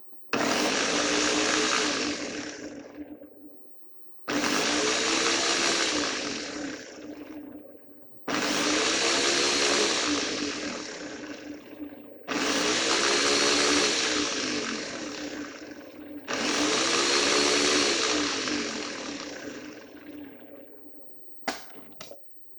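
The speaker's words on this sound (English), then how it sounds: "we'll put it right here on our blender. I'll turn it on." A blender whirs through five long loud bursts blending vegetables for a mac and cheese sauce, each run lasting several seconds with brief silent pauses between, then a short clatter at the end.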